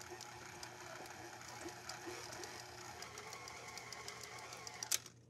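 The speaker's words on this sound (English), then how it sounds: "I'm gonna add it while the mixer's going" A stand mixer runs steadily while mixing chocolate brioche dough, a faint, even mechanical hum with light rhythmic ticking and a brief clatter near the end.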